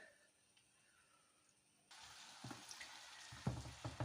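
Vegetables and onion frying in a pan: a faint, quiet background gives way partway through to a steady bright sizzle with crackling pops that grow a little louder toward the end, with no talk over it.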